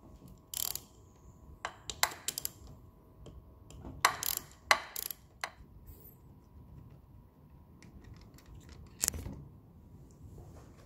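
A ratchet loosens the 10mm cylinder head bolts on a KTM 50 SX top end in short bursts of quick, crisp clicking, separated by quiet pauses.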